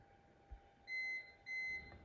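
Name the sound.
CyberPower UPS battery backup beeping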